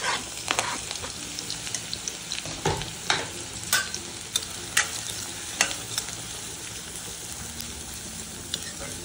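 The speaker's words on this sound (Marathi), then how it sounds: "ते आपण आता याच्यामध्ये चांगले परतून घ्यायचं लाल हो" Chopped onions sautéing with cumin in a pan, a steady soft sizzle broken by repeated scraping stirs of a spoon against the metal, close and moderately quiet, with no voices.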